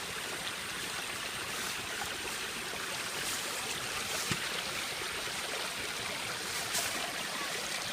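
Irrigation water flows steadily through rice terraces in the Philippines, a soft, continuous rushing and trickling heard from nearby with no one speaking.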